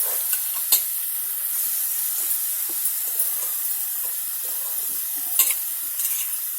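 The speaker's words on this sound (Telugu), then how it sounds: "వేగాక ఇప్పుడు క్యాబేజ్ వేసేస్తాం." Shredded cabbage fries and is stirred in a pan for a home-style cabbage curry, giving a steady soft sizzle with occasional scraping strokes of a spoon against the pan and no talking.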